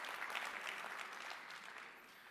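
An audience at a keynote breaks into a round of applause, a steady, dense patter of clapping that fades gradually as it ends.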